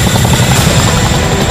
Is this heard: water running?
no